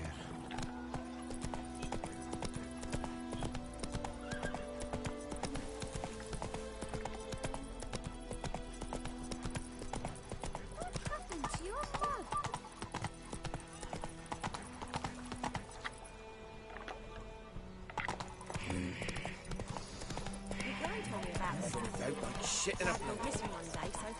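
Hooves of Roach, Geralt's horse in The Witcher 3, clatter in a steady gallop under game music, with a brief whinny and spoken voices mixed in across the ride.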